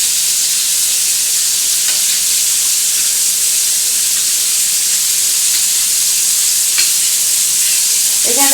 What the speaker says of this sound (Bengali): এটাকে একটু ভালো করে আমি গুলে নেব।